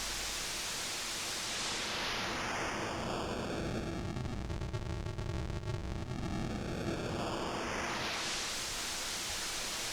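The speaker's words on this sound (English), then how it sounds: "That's just a regular white noise" Steady broadband hiss from a synthesizer's noise generator, loud and continuous for the full length. A sweeping, comb-like tonal coloring swells and fades through the middle.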